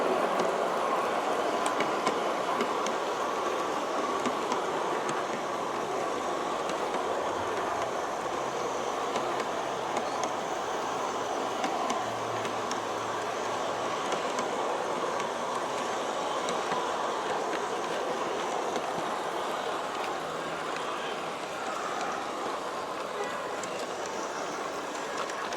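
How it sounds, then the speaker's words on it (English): An SP Daylight G scale model train runs along an outdoor track by a fence, giving a continuous steady rumble with faint clickety-clack over a broad hissing background, with no voices. "The train is going up the path by the fence."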